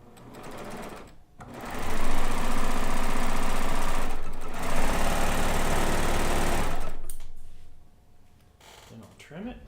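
A sewing machine stitches a quilt border in long, rapid bursts, with a brief pause early on and a quieter stretch at the end.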